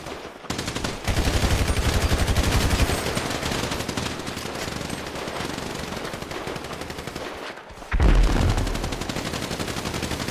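Gunfire from a PvP online shooter game: loud, sustained automatic-weapon bursts rattle almost without pause, with a brief gap before another heavy volley. No talking is heard.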